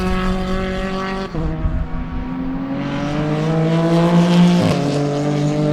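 Race cars roaring past during the Sebring 2-hour enduro: loud, sustained engine whine with shifting pitch as one car passes and another follows, the sound swelling and dropping near the track, with no voices.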